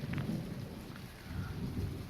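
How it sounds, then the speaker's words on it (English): Low rumbling thunder rolls under steady rain during a small thunderstorm in Red Deer, Alberta, heard outdoors as a continuous, fairly loud wash with no talking. "Just enjoying out and the crackling of thunder again."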